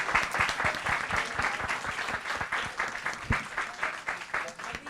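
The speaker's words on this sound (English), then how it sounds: "Let's give our resource persons a big hand of applause." An audience at a Hunger Project event on zero hunger gives resource persons a round of applause, a steady patter of many hands clapping close by with a few scattered voices underneath.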